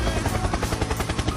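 Helicopter sound effect, a loud, close, steady rhythmic rotor chop thumping several times a second, heard alone without talk.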